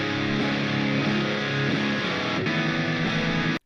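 Heavy distorted electric guitar tone from the Bias FX 2 amp modeler, set to a heavy preset, sustains thick and loud through the whole stretch with chord changes, then cuts off sharply at the end.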